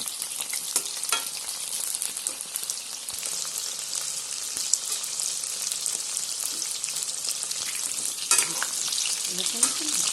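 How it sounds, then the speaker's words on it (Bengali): Chicken pieces deep-fry for chilli chicken in hot oil, giving a loud, steady, crackling sizzle with occasional sharper pops throughout. "চিকেনগুলোকে এবারে ডিপ ফ্রাই করে নেব।"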